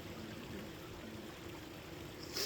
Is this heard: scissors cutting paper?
no